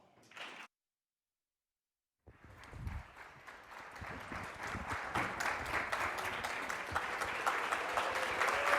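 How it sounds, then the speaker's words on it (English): A conference audience at a fireside chat session breaks into applause after a brief pause, the clapping starting softly and swelling into a steady, fuller wash of many hands that keeps building. "let's give him a round of applause"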